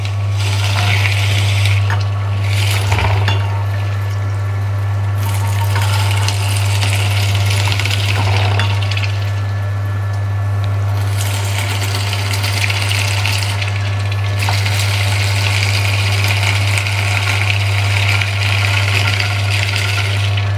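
Freshly pressed carrot juice gushes steadily from a juice press, a loud continuous pouring rush with a deep mechanical hum underneath and a few brief clunks, lasting throughout.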